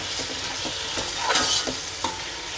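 Washed prawns sizzle and fry in a pan for prawn biryani while a utensil stirs them, scraping and clinking several times over the steady frying hiss.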